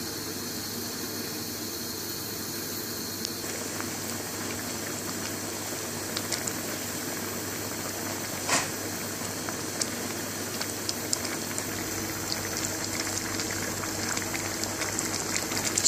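Bengali-style tarka dhal with chopped tomato bubbles and simmers steadily in a pan, a continuous soft boiling hiss with scattered small pops, no voices.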